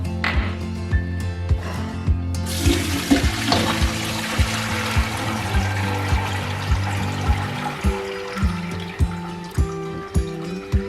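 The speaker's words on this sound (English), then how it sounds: "we're just going to drain the apple scraps out right now" Fermenting apple-scrap vinegar liquid drains and pours out of a container, making a loud, continuous close splashing and trickling sound. Faint rhythmic knocks run underneath the flow.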